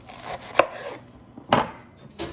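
A knife slices a head of lettuce down the middle for a wedge salad, with two sharp crisp cuts spaced about a second apart, a fainter third cut at the end, and a quiet kitchen background.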